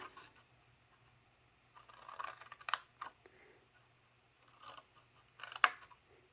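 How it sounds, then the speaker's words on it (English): Scissors cut up the score lines of a black cardstock candy box with a few quiet, separate snips and crisp paper crunches, set apart by near silence. "then we're going to cut straight up the score lines"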